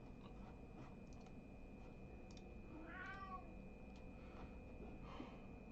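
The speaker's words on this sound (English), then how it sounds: "Please stop meowing." Pet cat meowing indoors, one drawn-out faint meow midway through a quiet room hum, with a few soft ticks around it.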